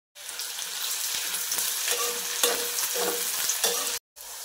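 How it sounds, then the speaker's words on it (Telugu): Onions and green chillies frying with shahjeera and biryani spices for matar pulao in a pressure cooker, a steady close sizzle broken by stirring scrapes and clinks, ending with a brief cutoff. "ఇవి వేగిపోయాక ఉల్లిపాయలు పచ్చిమిర్చి వేసి ఫ్రై చేసుకోవాలి."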